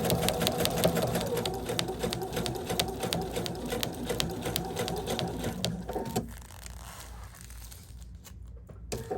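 A sewing machine stitches slowly through thick Sherpa fabric in a fast, even needle rattle close up, then stops near the end, leaving quieter handling sounds.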